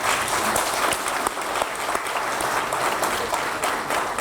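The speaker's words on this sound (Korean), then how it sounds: "박수 한번 해주시고" A crowd at a local town-hall meeting in Cheongsong County, Gyeongbuk, applauds with steady, continuous clapping of moderate loudness, with individual claps standing out throughout.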